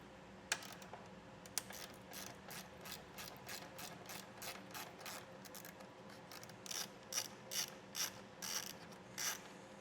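A ratchet driving a 10mm socket loosens a screw while fitting a Curt T-connector wiring harness on a 2024 Volvo, with a steady run of quick clicks that turns into louder, more spaced bursts toward the end.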